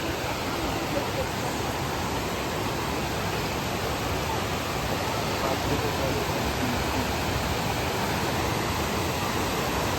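Water pours steadily at the Kadape Kondi waterfall in Raigad, a loud, unbroken broadband rush that never eases, heard close with no other sounds over it.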